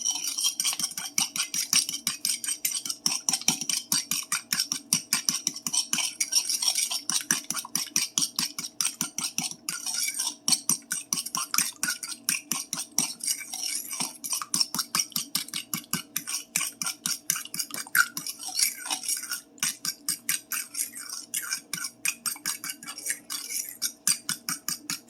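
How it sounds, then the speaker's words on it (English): Eight eggs being whisked well in a bowl, a fast, steady rhythm of light metallic ticks and clinks continuing for about twenty-five seconds, close but fairly quiet, with no voices. "I'm going to crack 6 more eggs, and we're going to come back and whisk."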